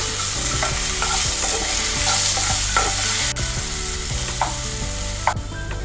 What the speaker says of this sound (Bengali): আলুগুলো একটু ফ্রাই হবে তারপর আমি সুজি দেবো নুন দিয়ে দিচ্ছি হলুদ দিয়ে দিচ্ছি দুবার একটু নাড়াচাড়া করছি